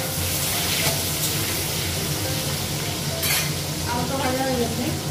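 Potatoes frying in a pan while being stirred, a loud steady sizzle with scraping stir strokes running through, close up and continuous.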